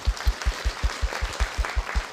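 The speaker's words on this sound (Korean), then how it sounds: "박수합니다." Rhythmic, evenly spaced clapping at a Korean political constituency report event as guests are introduced, about ten beats in two seconds, moderately loud and fairly close.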